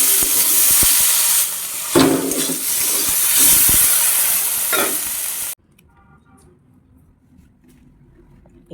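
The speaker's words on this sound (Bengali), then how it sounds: "আলু ভাজা তো হচ্ছে এখন" Potatoes fry in a pan alongside stirring, a dense steady sizzle and hiss lasting about five seconds before the sound cuts off to near silence.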